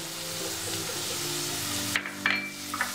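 Vegetables sizzling with curry leaves in a hot pan for vegetable poha, a steady close frying hiss with a few stirring scrapes near the end.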